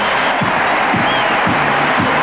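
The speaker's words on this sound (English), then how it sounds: "listen to the applause they get." Stadium crowd at the 1982 Commonwealth Games applauds the massed bands in a broad, steady wash of clapping, far and diffuse, with a few faint low thumps rising out of it.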